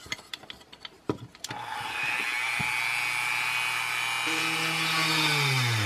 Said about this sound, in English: So I'm going to pre-drill 4 small holes here in order to install the hinge.